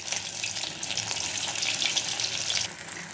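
Meal maker fritters frying in moderately hot oil in a kadai, a dense, steady bubbling crackle close by and unbroken, with no voices.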